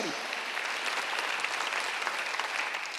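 A church congregation in Sunday worship breaks into loud, dense applause, a sustained even roar of many clapping hands filling the hall from start to finish.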